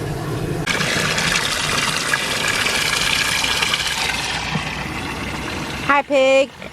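Water pours steadily from a hose or can into a muddy pig pen for several seconds, a broad continuous rush that stops near the end, followed by a brief high-pitched sound.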